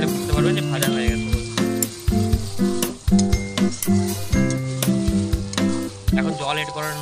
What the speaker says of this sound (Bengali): আদা রসুনটা দেওয়ার পর ভালো করে ভাজিয়ে নেব।